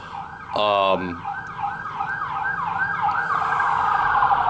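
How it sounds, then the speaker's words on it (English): An ambulance siren wails past with rising and falling sweeps, loud and close, with steady road noise underneath. "There's an ambulance going by."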